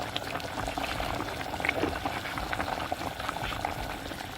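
A cornmeal mixture poured into a pot of boiling water for coucou, giving a steady bubbling, pouring wash at close range, continuous and moderately loud, with no one speaking.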